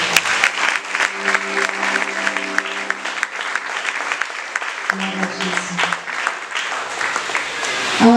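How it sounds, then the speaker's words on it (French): A church congregation at a spiritual week service bursts into sustained applause to acclaim the Lord, loud and continuous clapping with a sung or spoken voice rising over it and a strong sustained tone joining partway through. "Est-ce qu'on peut acclamer le Seigneur pour sa parole?"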